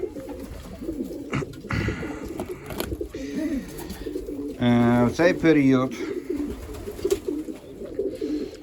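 Pigeons coo in a coop, adult birds with freshly hatched squabs, a low rolling coo rising clearly mid-clip over steady background murmur, while someone speaks in Ukrainian around it.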